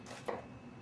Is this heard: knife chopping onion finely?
yes